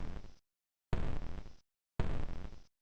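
A noisy video game crash effect plays three times, each burst fading quickly before a short silence, fairly quiet with no speech.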